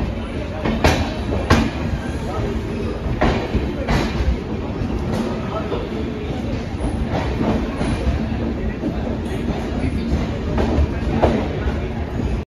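An Indian passenger train, the Kashi Vishwanath Express, running on rails near Pratapgarh. It gives a steady, loud rumble with rhythmic clickety-clack wheel beats throughout, and faint voices in the background.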